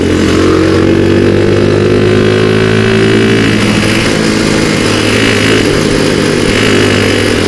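A Sigma 250 motorcycle on a ride toward Marilaque, with its engine droning loudly and close, rising slightly in pitch and then holding steady under heavy wind rush.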